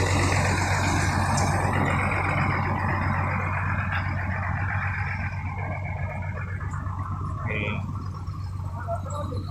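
An ALS 326 Doras bus, registration BK 7766 DN, has its engine running smoothly as a steady low drone throughout, with people talking over it.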